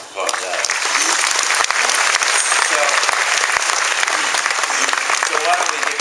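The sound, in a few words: audience applause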